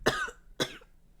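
A voice imitates someone coughing up blood: two harsh, wet cough bursts close to the mic, separated by a short pause, then quiet.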